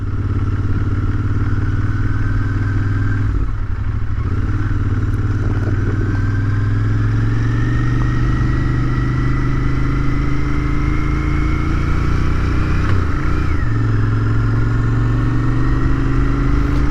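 A Royal Enfield Interceptor 650 parallel-twin motorcycle rumbles along at slow speed, its loud, steady low engine drone with gentle rises and falls in pitch as the clutch is worked, heard up close without talk.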